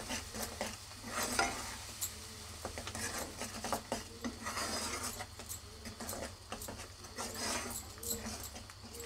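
A spoon stirs potato masala with coriander powder and salt in a pan, producing a steady scraping and a light sizzle with soft clinks of cutlery against metal, close and quiet.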